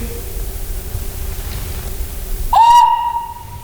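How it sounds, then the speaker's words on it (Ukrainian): A single bright, sustained whistle tone from a traditional Ukrainian clay toy whistle rises in after a stretch of faint background hiss, sounding close and clear for about a second. "Це свистки в основному, це іграшка свистунець."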